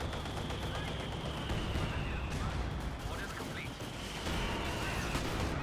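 Mortar and artillery fire in a Company of Heroes 2 battle, a dense rumbling barrage of shots and blasts that rolls on steadily without a break, with commentary talk faintly underneath.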